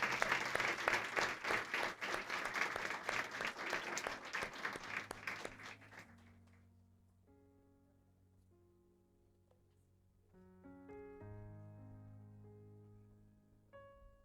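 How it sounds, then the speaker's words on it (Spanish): A church congregation claps loudly in a dense burst of applause that fades out after about six seconds, leaving soft sustained keyboard or organ chords playing alone. "Vamos a darle un aplauso fuerte a ese gran yo soy."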